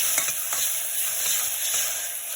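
Ginger-garlic paste frying with onions in a pan, a continuous hissing sizzle with soft scraping of a spoon stirring, close and steady.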